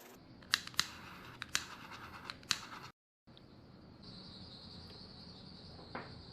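Hand file rasping the seam of an FDM 3D printed RC drift car tire, a few short sharp scraping strokes in the first half, close and fairly quiet, then a brief pause and a low steady hiss.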